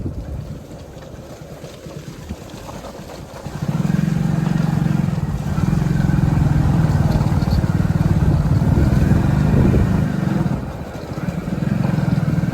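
A motorcycle rides along a village road, its engine droning low and steady with wind buffeting the microphone, the engine note swelling louder after a few seconds and holding.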